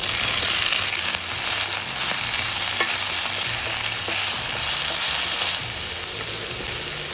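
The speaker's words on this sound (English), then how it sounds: "in a saute pan, we're going to add some oil, and we're going to saute our aji amarillo, the red onion, and the garlic" Aji amarillo peppers, red onion and garlic sautéing in oil in a sauté pan, a loud, steady close sizzle with occasional stirring scrapes, no voices.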